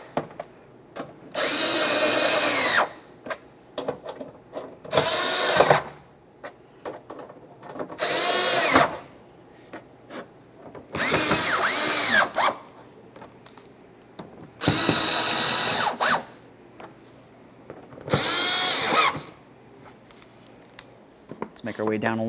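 Power drill fitted with a Phillips head bit driving fasteners on a 2011-2020 Toyota Sienna inner fender liner, six loud close bursts of whirring with short gaps between, and talk heard in the pauses.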